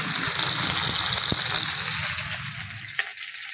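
Fish sizzling in hot oil as it fries, with a steady broad hiss that holds for a couple of seconds and then eases a little, broken by a few sharp crackles and spits.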